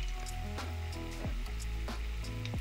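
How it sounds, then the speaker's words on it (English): Beef empanadas fry two or three at a time in hot oil held near 175 °C, a steady close sizzle running throughout beneath tonal background music. "only frying in batches of 2 or 3 and never overcrowding the pan"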